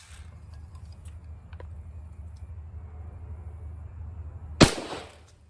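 .223 Remington fired from a rifle with a 16-inch barrel, Winchester White Box ammunition: a single sharp, loud report cracks out near the end after quiet background rumble, then decays quickly.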